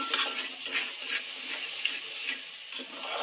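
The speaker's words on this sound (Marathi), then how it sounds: "आता आपण असं मिक्स करून घ्यायचं आहे त्याच्यामध्ये." A utensil stirs tilapia fish curry in a pan at home, giving repeated close scraping strokes over a steady soft sizzle, with no voices.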